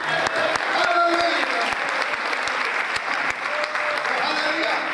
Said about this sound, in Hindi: बड़ा हंस के ताली बजाओ हमारे प्रभु के लिए।